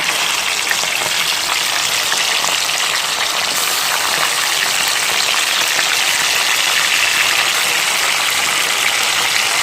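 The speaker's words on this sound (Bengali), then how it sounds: "আপনাকে প্রত্যেকটা মাংসের টুকরা একটু হলুদ এবং লবণ দিয়ে মেখে ভেজে নিতে হবে" Chicken pieces rubbed with turmeric and salt frying in oil, a loud, steady hissing sizzle that holds evenly throughout with no talk.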